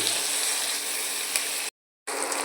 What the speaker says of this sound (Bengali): পেঁয়াজ লঙ্কা টমেটো কুচি সব দিয়ে ভেজে নিচ্ছি।